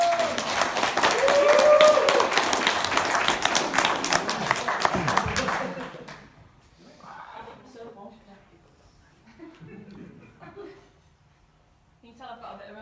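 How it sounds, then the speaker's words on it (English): Audience applause at a Facebook-reach meeting in Newcastle: a dense, loud burst of clapping for about six seconds, then it fades out, leaving quiet room noise and a voice starting to speak. "give Becky a massive round of applause"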